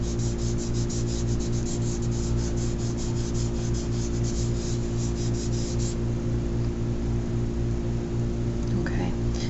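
Charcoal shading on paper while drawing an apple, a close, continuous soft rubbing and scratching that goes on steadily throughout, with some quiet voice in the background.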